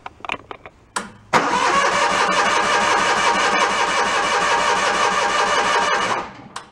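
An old John Deere tractor rescued from scrap cranks briefly, then its engine starts at half throttle and runs loud and close at a steady rumbling idle for several seconds before cutting out.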